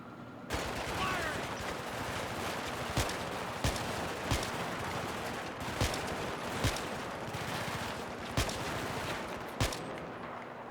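Sustained Battlefield 3 combat gunfire, dense overlapping rifle and machine-gun bursts punctuated by several sharper, louder shots at irregular intervals, with battle noise rumbling throughout.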